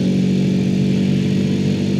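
A 2006 Honda CBR 125 JC34 motorcycle engine runs steadily nearby, a loud, even mid-pitched hum with a whirring edge and no voices over it.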